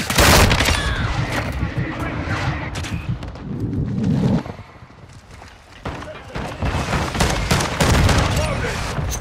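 Gunfire in Call of Duty: Modern Warfare II, loud volleys and scattered shots with thuds and a brief lull before firing picks up again, with voices calling out over the battle.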